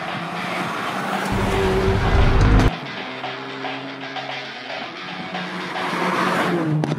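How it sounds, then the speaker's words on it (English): A 2019 Hyundai i30 Fastback N Performance with 275 hp driven hard through curves, its engine roaring steadily up close with brief tire squeal and shifting pitch as it powers through bends. "it roars precisely and extremely fast through the curves"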